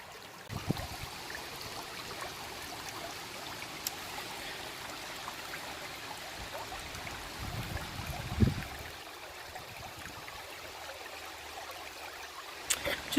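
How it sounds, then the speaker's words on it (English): A stream's running water trickles and babbles steadily at moderate level on a mudlarking outing by an ancient village, with a few faint knocks and no talking. "Just enjoying listening to the sound of the running water."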